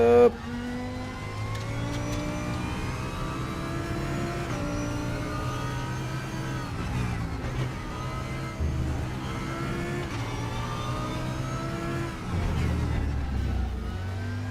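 A Porsche race car engine in RaceRoom drones and revs steadily for the whole stretch, with gear changes rising and falling and a deeper surge near the end, with a voice faintly underneath.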